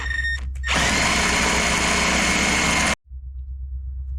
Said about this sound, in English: We're just going to hook our drill in here.